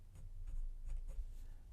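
A medium-nib Majohn C4 fountain pen writing on lined Rhodia paper, a faint, close scratching of short strokes with no voices.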